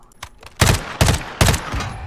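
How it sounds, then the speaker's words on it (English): Three loud gunshots ring out at a steady pace in a shooter video game, each a sharp broadband blast with a short decaying tail over quiet background. "I'll shoot three times."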